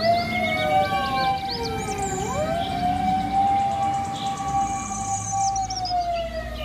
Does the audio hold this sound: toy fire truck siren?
yes